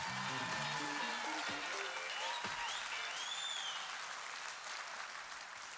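A conference audience at Summit Europe 2018 applauds to welcome a presenter on stage, steady dense clapping that carries on throughout and slowly tapers off toward the end.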